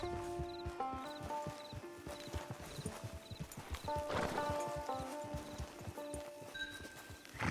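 Horse hooves clip-clopping at a steady walking rhythm as a rider heads into camp in the Red Dead Online video game, with a brief whinny and soft game music underneath.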